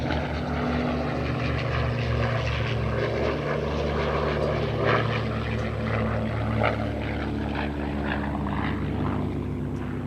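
A P-51 Mustang propeller airplane drones steadily overhead, its engine hum holding loud and even throughout.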